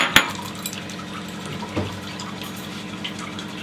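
Water is poured from a glass into a cooking pot of khichdi with peas, giving a short splash followed by a steady low trickle and a second splash, close and fairly loud.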